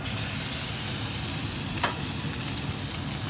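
Ahi tuna steak searing in about a tablespoon and a half of hot extra virgin olive oil, a steady close sizzle with a brief sharp crackle near the middle and no talking.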